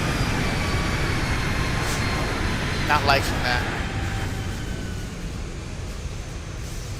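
Boeing 737-800 thrust reversers roaring in the X-Plane 12 flight simulator, a steady broadband rush of simulated engine noise with a brief voice speaking over it.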